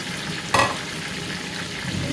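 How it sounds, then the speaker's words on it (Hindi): Onions frying in a pan for chana pulao, a steady close sizzle with one sharp stirring scrape partway through, fairly loud and without talk. "तो प्याज हमने डाल दिए ब्राउन होने के लिए और आग करेंगे थोड़ी सी तेज़"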